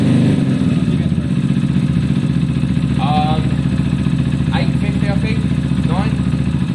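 A Zontes motorcycle engine idles roughly and unevenly up close, a loud steady mechanical chug with clattery tones, while several people talk over it.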